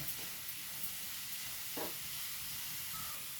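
Masala sizzles in a pan while being stirred, a soft steady hiss with one brief scrape of a spoon, faint and without talk.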